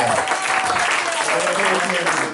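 Church congregation applauding and cheering together at a French-language sermon on Elijah and the flour offering, a steady dense wash of clapping with some voices mixed in, filling the whole stretch at even loudness.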